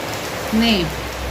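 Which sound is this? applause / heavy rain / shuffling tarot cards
heavy rain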